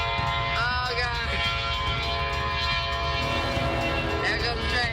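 A train rumbles past close by while a loud, sustained horn blares, with excited voices talking over the noise.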